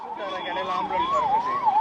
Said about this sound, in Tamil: எதுக்காக ஆம்புலன்ஸ் இத்தனை வாட்டி போயிட்டு போயிட்டு போகுது